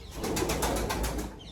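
A domestic pigeon coos in a steady rhythmic series of soft throaty pulses, close by and fairly quiet, with no talking.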